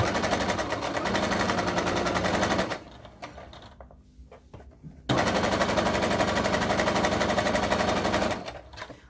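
A sewing machine stitches a crossbody bag, backstitching as it goes: two long runs of rapid, loud needle chatter separated by a quiet pause with faint handling noises.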